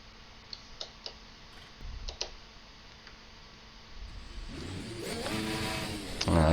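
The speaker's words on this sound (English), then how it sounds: "So we have started the car up." The VRC Formula Alpha 2023 race car in the racing sim opens with a few faint clicks and ticks, then its engine starts and swells into a rising, buzzing rev that grows louder toward the end.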